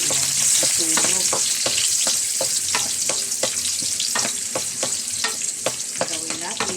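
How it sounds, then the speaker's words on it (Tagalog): Onion, garlic and ginger sautéing in a pan for squid adobo, a steady bright sizzle broken by repeated clicks and scrapes of stirring, close and continuous with no talking. "Ang gawin natin ay papula-pulahin natin ang loya at sibuyas."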